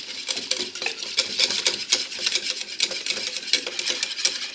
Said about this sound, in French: on mélange sans arrêt jusqu'à ce que ça épaississe